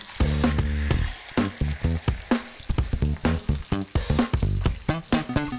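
A dry-aged steak sears salted side down in a hot pan, loud crackling spatter sounding in close bursts with a pulsing rhythm, alongside strong low tonal hum and tapping that sound tonal rather than pure sizzle.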